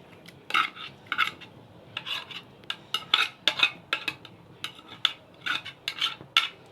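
An onion is stirred in oil in a pan, with a utensil clinking and scraping against the metal in a run of sharp, irregular knocks up close.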